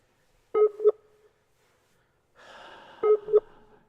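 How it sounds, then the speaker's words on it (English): During an outgoing phone call, the line rings twice, each ring a short double pulse spaced a few seconds apart, with a brief patch of hiss between them. "Let's see if he picks up the phone."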